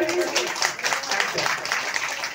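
Crowd applause fills the hall at a spiritual awareness camp, a thick, continuous patter of many hands clapping at a fairly loud level, with a brief hint of voice near the start.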